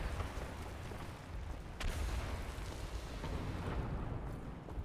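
A grenade blows up in Wolfenstein with a dense, rumbling roar and a sharp crack about halfway through. Heavy low noise keeps booming the whole time, with no voices.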